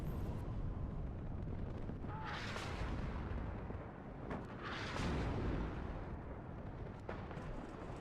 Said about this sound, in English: people just like to aimlessly shoot artillery without a purpose.